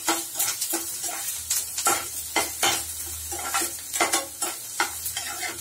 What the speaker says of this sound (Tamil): வெங்காயம் வதங்கிருச்சு இப்ப காஞ்ச மிளகாய் சேர்த்துக்கோங்க